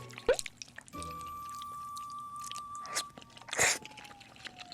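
Kimchi being bitten and chewed during a meal, with a few loud, close crunches and wet mouth sounds between quieter pauses.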